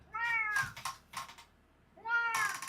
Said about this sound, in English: And right on time, it's the cats.